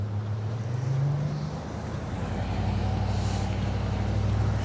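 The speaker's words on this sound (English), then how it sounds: "put it in drive and come down the hill with me" Toyota Tacoma pickup rolling slowly down a hill, its low engine drone steady and close throughout, with a brief low rumble swelling early on and no talk.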